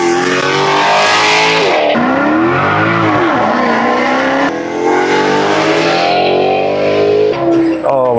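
A Maserati GranTurismo S with its Italian V8 and custom megaphone test pipes revs hard and loud, the exhaust note sweeping up and down through several throttle blips and a sustained howl up close.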